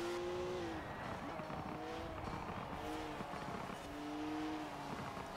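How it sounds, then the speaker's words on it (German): BMW M4 GTS in Forza Horizon 4 burbling and revving off throttle, rising and falling engine tones repeating in waves under steady game noise, with a voice talking over it. "Ah, wie das klingt, wenn du nur vom Gas direkt so brrrr, brrrr."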